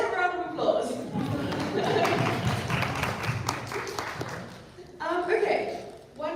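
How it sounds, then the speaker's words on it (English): Audience applause from a crowd at a university lecture event on the colonial university in Africa, a dense steady patter of clapping sustained for several seconds, with a voice speaking briefly at the start and again near the end. "let's have a round of applause"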